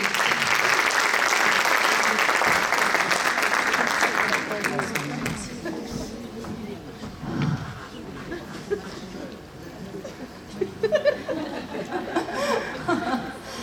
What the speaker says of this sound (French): Avec beaucoup de fierté et sur vos chaleureux applaudissements, on va l'accueillir.